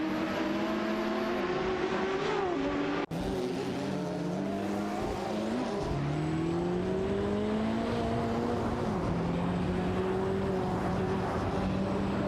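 A Mazda RX-7 IMSA GTO and a Ferrari F40 Competition battle in an AI-driven video game race, engines roaring continuously with rising and falling revs through gear changes, several cars layered together at a steady loud level.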